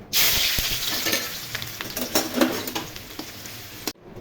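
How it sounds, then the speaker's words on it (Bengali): Onions fry in hot mustard oil for birista, giving a bright, continuous sizzle close by. Light stirring scrapes sound throughout, and it stops abruptly after about four seconds. "এখন পেঁয়াজের বেরেস্তা ভেজে নিব"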